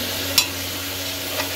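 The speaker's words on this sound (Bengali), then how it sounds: "সবজিটা ভাজা হয়ে গেছে, খুব বেশি ভাজবো না" Mixed vegetables for a mutton soup fry in a pan with butter, giving a steady close hiss broken by two brief scrapes of a stirring spoon.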